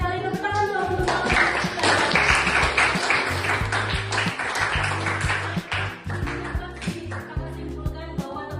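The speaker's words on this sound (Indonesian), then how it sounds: "Baik sekali, tepuk tangan dong untuk kita" Students in a teaching-practice classroom clap together on cue, a burst of brisk applause that peaks and then trails into a few scattered claps, with background music or tones underneath.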